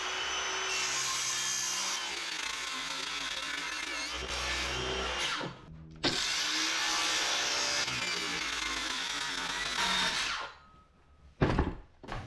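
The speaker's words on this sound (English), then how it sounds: "Have to trim out a little of this bracket so this can come back to here." Trimming a wooden bracket with a hand tool, steady rasping and sawing strokes in long runs with a brief pause and a few knocks near the end, close and fairly quiet, no talking.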